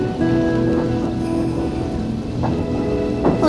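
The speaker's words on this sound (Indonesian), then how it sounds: "Sepertinya hujan mulai turun." Rain begins falling at night in an Indonesian-dubbed Hunter X Hunter anime scene, a steady hiss of drops with a few brief splashy bursts, loud and alone without voices.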